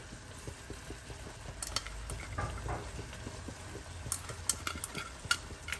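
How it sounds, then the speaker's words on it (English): Lamb shank palau being stirred in a pot, Fiji style, with coriander just added: soft scraping and clinking of a spoon against the pot over a low simmer, with scattered sharper taps toward the end. "I'll just give it a quick stir"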